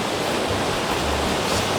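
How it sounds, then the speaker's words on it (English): Waterfalls at Silica Rapids on snowy, foggy Mount Ruapehu roar as a constant broadband rush, loud and steady with no break. "sounds like waterfalls, which is what I love"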